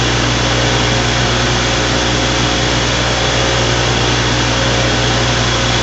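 An electric motor controlled by a soft starter runs steadily, giving off a loud, constant whirring drone with a steady low hum, unchanging and alone.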